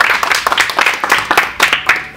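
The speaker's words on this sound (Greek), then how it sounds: "Αξίζουμε όλοι ένα θερμό χειροκρότημα." Warm applause from a crowd at a Greek-language school celebration, a dense patter of clapping with uneven bursts, fairly loud and close, with no talk over it.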